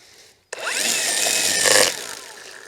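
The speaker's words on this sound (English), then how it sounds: "So I got this great electric trimmer." An electric trimmer whirs up suddenly and runs in a loud, close, high-pitched whine as it cuts grass, surging briefly before tailing off after about a second and a half.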